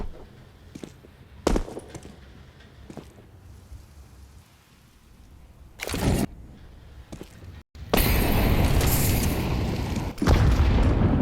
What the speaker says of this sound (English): HE goes in a little too early. That could have been a high damage nade.